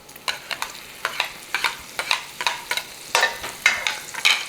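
Half a stick of butter and bacon grease sizzle in a hot pan as the roux base for Southern macaroni and cheese, with repeated rhythmic scraping strokes of stirring over a constant frying hiss.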